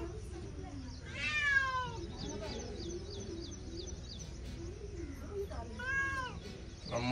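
Pet cat meowing insistently at a venomous snake inside a house, two loud drawn-out meows a few seconds apart, with birds chirping in the background and a voice speaking.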